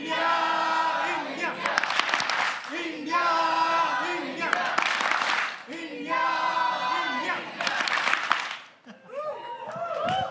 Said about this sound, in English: We say India, India twice and 3 claps.